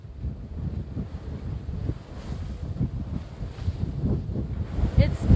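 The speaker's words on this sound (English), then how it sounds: "It's blowing 25 to 30 knots" Strong wind of 25 to 30 knots buffets the microphone on a sailboat at sea in November, with choppy waves splashing around the hull in a continuous, gusty roar.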